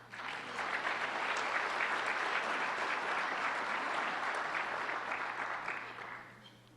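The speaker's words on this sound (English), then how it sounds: "give yourselves a round of applause for being here" An audience at an awards event applauds steadily for several seconds, a dense even clapping that fades out at the end.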